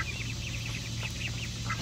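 Chickens housed in an old rabbit hutch give soft, repeated clucks and chirps over a low steady hum, fairly faint and close together, with no speech.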